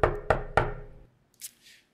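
Three firm knocks land on a door in quick, evenly spaced succession, loud and close with a brief resonant decay, followed by a faint short rustle.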